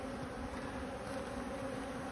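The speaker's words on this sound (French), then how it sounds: "on voit très bien les abeilles qui rentrent avec du pollen." Honeybees hum in a steady, continuous drone at a hive entrance, a dense low buzz of many insects holding even throughout with no talk over it.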